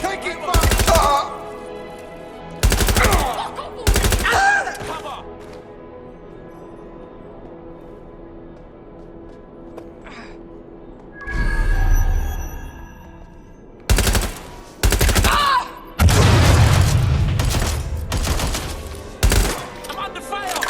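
Gunfire in Watch Dogs Legion: loud bursts of rapid automatic fire come in several separate volleys, close and harsh, with quieter stretches between them.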